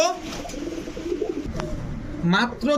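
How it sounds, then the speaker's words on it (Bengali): A pair of Pakistani Kaldom pigeons coo softly in low murmurs as someone talks over them. "এক জোড়া পাকিস্তানি কালদম কবুতর"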